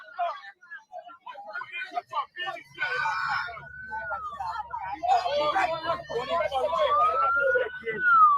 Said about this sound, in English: I can hear sirens in the distance